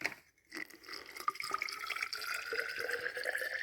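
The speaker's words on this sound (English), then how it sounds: "he's going to add in the 12 ounces of water that we need." Twelve ounces of cold water is poured into a mixing vessel, a continuous close trickle and splash that starts after a brief pause and runs to the end.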